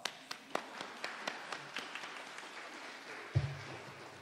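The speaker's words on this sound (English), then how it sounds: "Give them a round of applause" Scattered claps from a small audience at a morning event honoring service dogs and their trainers, about a dozen sharp distinct hand claps in an uneven rhythm, fairly faint, followed by a brief low thump.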